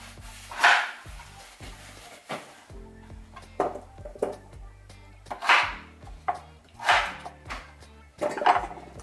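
A kitchen knife chops ingredients into bite-size pieces on a cutting board, a series of sharp, irregular close knocks spaced about a second apart over low background sounds.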